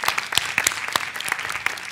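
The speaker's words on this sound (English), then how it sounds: "You clap, thank you." Scattered applause from an audience at a talk on women and money, a modest crowd whose individual sharp claps stand out unevenly rather than merging into a dense roar.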